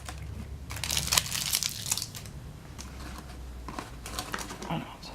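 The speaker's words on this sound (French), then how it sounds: "Pour que ce soit plus facile, on va enlever le scotch." Sticky tape peeled away from the thin stems of leggy seedlings, giving close, irregular crinkling and tearing bursts with a low background rumble.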